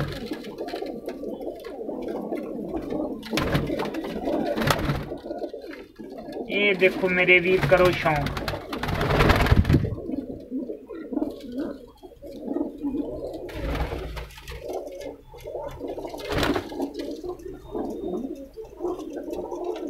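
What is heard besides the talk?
pigeons on a rooftop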